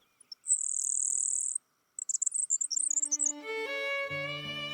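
Grasshopper sparrow song: a thin, high, insect-like buzz held for about a second, then a scatter of short high ticks, followed by steady low tonal notes.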